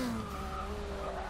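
In the racing game Forza Motorsport 6, a Toyota Celica GT-Four brakes hard on track, its tires squealing steadily over the engine drone in a brief, loud burst.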